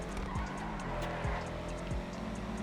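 A Benefactor Schlagen GT sports car in the video game GTA Online drones steadily as the engine revs shift up and down, with brief tire squeals cutting through the continuous roar.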